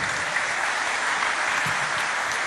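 A church congregation claps in sustained, dense applause filling the hall, steady and loud throughout with no break.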